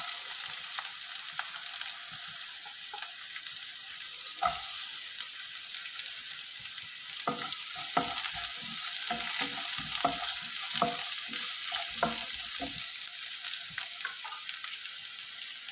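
Soft, steady sizzle of finely chopped onion frying in refined oil, broken by irregular clicks and scrapes of a spoon against the pan, fairly faint and close.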